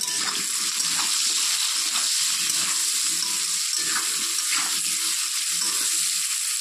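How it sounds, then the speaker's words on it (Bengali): Potatoes frying in oil with turmeric and salt, a steady, loud, continuous sizzle with a watery hiss that holds throughout without pause. "হলুদ আর নুন দিয়ে আলুটাকে একটু ভেজে নেব।"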